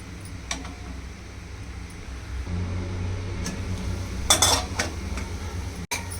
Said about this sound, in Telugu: ఇప్పుడు ఒకసారి మూత పెట్టాలి, ఒక 2 మినిట్స్